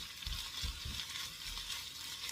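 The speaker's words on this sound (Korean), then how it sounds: "들기름을 넣고 이렇게 골고루 저어줍니다." Radish greens namul being stir-fried with perilla oil in a pan, a steady soft sizzle with a few low stirring thumps, close and alone without talk.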